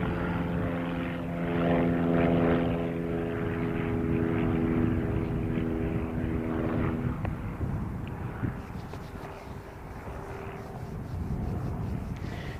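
Jetstar flight 273 arriving at Christchurch airport, a steady loud aircraft engine roar with droning propeller tones that fades to a broader rumble as the plane passes, heard from the ground.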